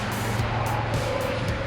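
Steady traffic roar from a busy road beside a tight boat-parking spot, with cars passing continuously rather than as one distinct pass-by, loud and unbroken throughout.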